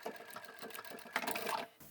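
A sewing machine stitches a zippered pouch in a short, rapid burst of needle clatter, close and fairly quiet, stopping abruptly with no voice.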